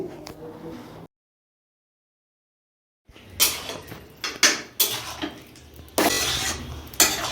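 Chili powder mixed into lotte fish curry in a pan, with a brief silent gap followed by repeated scraping and clattering strokes of a utensil against the pan, fairly close and loud.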